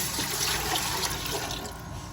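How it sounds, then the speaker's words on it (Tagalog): Water pours steadily into a cooking pot for a short stretch, a continuous splashing rush with no pauses, close by and moderately quiet. "Ayan, naglagay tayo ng tubig."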